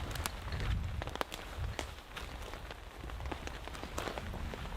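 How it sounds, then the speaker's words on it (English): Faint, scattered drips and patters of water falling on leaves and ground in a soaking-wet forest after weeks of rain, irregular and soft, in a quiet outdoor setting. "There's water literally dripping from everything at the moment."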